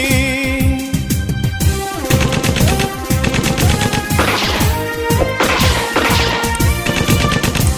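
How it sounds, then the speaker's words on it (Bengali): Rapid machine gun fire used as a sound effect inside a Bangladeshi patriotic song about the 1971 war, with dense rattling bursts running steadily through the loud music for several seconds. "চালাই মেশিন গানের গুলি"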